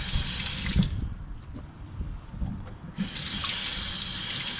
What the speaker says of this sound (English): Gotta rinse the board off again.